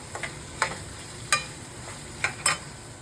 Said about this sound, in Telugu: ఒక 2 మినిట్స్ ఇలా వేయించుకుంటే ఈ ముక్క కూడా చక్కగా పచ్చివాసన లేకుండా వేగుతుంది